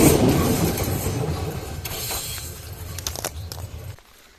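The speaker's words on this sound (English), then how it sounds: "And that I can hear is a train coming." A train rumbles and clatters through a railway yard in Bulgaria, moderately loud at first and fading over a few seconds with scattered clanks before dropping off, no speech.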